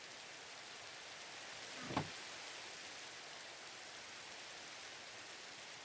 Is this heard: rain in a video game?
yes